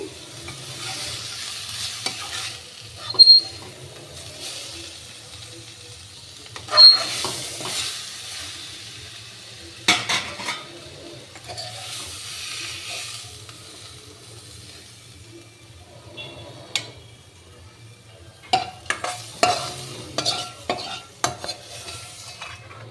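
Red amaranth greens being stirred and fried in a pan, with a low steady sizzle under intermittent scraping clinks of a spatula against metal, close and moderately loud, with no talking.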